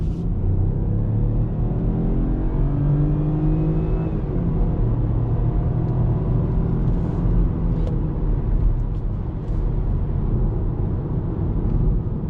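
A 2020 BMW 118i with a three-cylinder engine accelerates from inside the cabin, giving a steady, fairly smooth low drone and rumble that rises in pitch through the gears, with road and tyre noise underneath and no talking.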